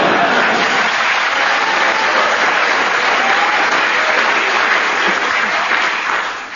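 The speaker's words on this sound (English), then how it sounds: "I don't know what you're clapping for." A studio audience at a comedy panel show bursts into loud, sustained applause that holds steady for several seconds before starting to taper off at the end, with no voices over it.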